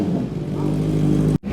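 A car with a cat-delete exhaust revs loudly and steadily up close for over a second, a droning engine note that cuts off abruptly near the end.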